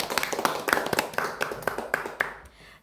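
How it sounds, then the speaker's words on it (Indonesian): A group of people clap briskly and evenly for under three seconds, with faint voices in the background, before the sound cuts off. "tepuk tangan dulu dong"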